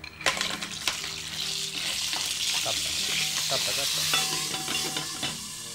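Clams crackle and sizzle in hot oil with sharp pops and a steady frying hiss, moderately close.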